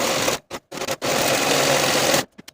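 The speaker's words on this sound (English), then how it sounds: "I'm going to take it to the serger and serge from the bottom corner of the pocket all the way to the seam" A serger runs close and loud along a pocket seam of a pair of pants, starting in a few quick stuttering bursts before a sustained steady run, then stopping with a couple of short clicks.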